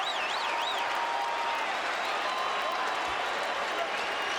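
A packed basketball arena crowd roars continuously for Kobe Bryant, a loud, steady wall of cheering with scattered claps and a whistle, and a commentator talking over it.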